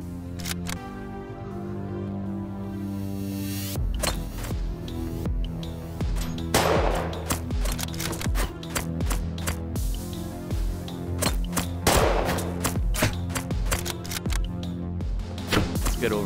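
Enemies shooting in Shotwood VR, a series of sharp gunshot cracks scattered through the clip, some in quick succession, heard over a sustained musical game soundtrack with occasional talk.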